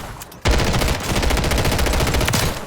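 A DG-58 LSW light support weapon firing in a video game, a sustained rapid burst of loud, evenly spaced shots that starts abruptly after a short lull and runs on to the end.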